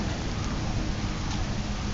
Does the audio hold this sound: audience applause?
no